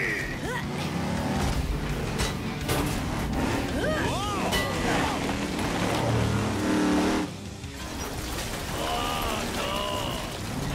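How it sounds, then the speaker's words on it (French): Cartoon monster trucks Bigfoot and Megavrex racing, engines roaring and revving loudly with rising and falling whines throughout, under excited animated character voices speaking French. "On fait la course, Megavrex! Wow, c'est parti!"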